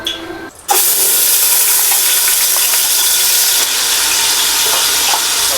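Ginger garlic paste hits about fifty grams of hot oil for chicken chilli, bursting into a loud, steady, hissing sizzle that fills the pan after a brief quiet start and carries on unbroken with no voices.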